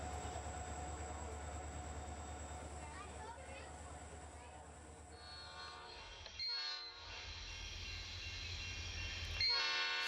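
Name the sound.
Norfolk Southern vintage diesel locomotive with horn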